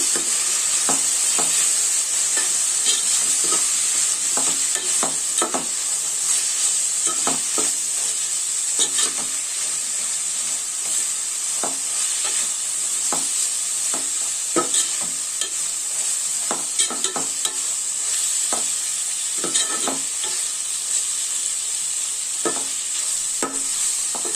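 Spiced raw mango fish curry masala stirred in a frying pan, a steady bright sizzle with repeated scraping stirs at an irregular rhythm, close and continuous with no talk.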